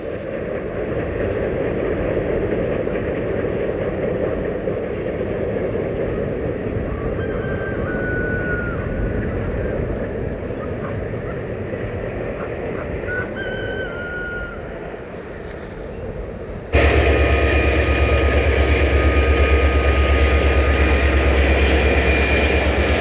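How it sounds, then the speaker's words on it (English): Union Pacific Challenger steam locomotive towed backwards by a diesel locomotive on the Clinchfield line, heard from the east side of Copper Creek Trestle as a steady rumbling train passage that grows louder and closer near the end. "we watch as the train is pulled north"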